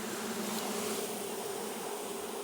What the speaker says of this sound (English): there's a little ball of bees right down there